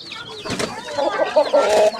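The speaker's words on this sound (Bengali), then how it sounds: "ওনার কাছে দেখতে পাচ্ছেন ব্রাহ্মা মুরগি ব্রাহ্মা মোরগ" Brahma hens and roosters cluck in a close run of short, throaty calls that grow louder and more tonal toward the end, with soft rustling between them.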